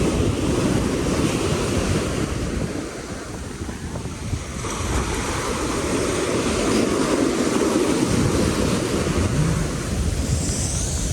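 Ocean surf washes steadily onto a Virginia Beach shore, a continuous loud roar of breaking waves mixed with wind buffeting the microphone, with no voices.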